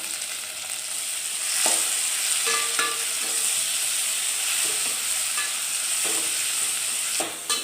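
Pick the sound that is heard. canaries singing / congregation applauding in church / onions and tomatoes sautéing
onions and tomatoes sautéing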